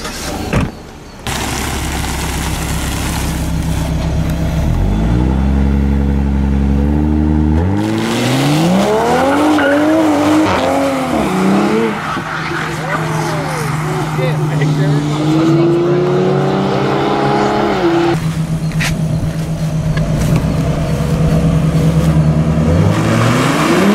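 A 2020 Toyota Supra launches hard using launch control, its engine revving up through a series of rising gear pulls, loud and close, with a brief tire squeal and voices talking over parts of the run.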